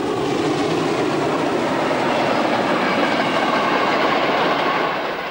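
DB class 038 steam locomotive 038-772 passing with its train, a loud, steady rumble and clatter of wheels on rails sustained throughout, easing slightly at the end.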